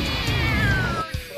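A cartoon cat lets out a long, loud, drawn-out meow that slides downward, followed by a short higher yelp near the end.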